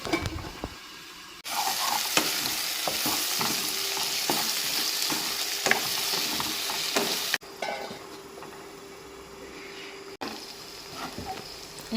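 Ginger garlic paste fries in a pan alongside snake gourd for a fish curry, giving a loud continuous sizzle with repeated stirring scrapes and a few quieter cut sections.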